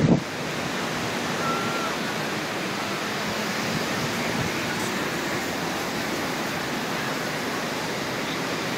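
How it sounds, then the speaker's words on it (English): Ocean waves on a crowded beach roll in as a constant broad wash of surf noise, steady and fairly loud, mixed with wind across the microphone and no clear voices. "The wave is looking beautiful."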